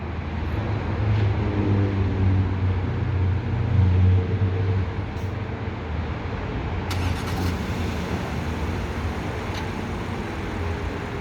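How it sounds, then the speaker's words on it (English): A 2015 Audi Q7 running after a remote start, its engine giving a steady low idle rumble that stays even throughout, heard from nearby outdoors with no voices. "Vehicle starts up, runs for about 15 minutes, and then will shut itself off."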